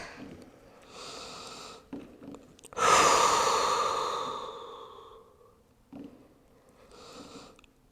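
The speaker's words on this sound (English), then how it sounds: "Big breath in and out." A slow, deep breath drawn in and let out near the end of a live yoga class in child's pose, a soft rushing inhale followed by a long fading exhale, with quieter breathing before and after.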